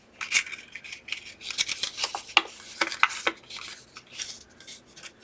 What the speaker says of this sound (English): You're just going to try to train your paper to roll.